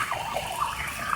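Stream water gushes through a flat homemade gutter sluice in a steady, close rushing flow, bright and splashy throughout with no talking.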